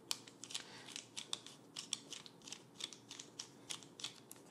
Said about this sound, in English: I can put these screws in.